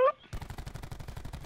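Rapid automatic gunfire from the Call of Duty video game in a college match, a steady burst of about a dozen sharp shots after a brief tone, loud and close.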